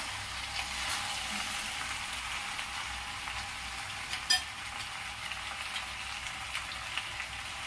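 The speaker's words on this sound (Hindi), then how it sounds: "दोस्तों पास्ता मिला करके मैं भून ली हूँ" Pasta fries gently in a pan, a quiet, continuous crackling sizzle like light rain, with one brief louder scrape of stirring partway through.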